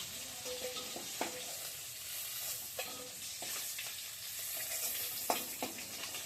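Koi fish fry in hot oil with a soft, steady sizzle, broken by occasional sharp spatters and pops, fairly quiet and heard alone without any voices.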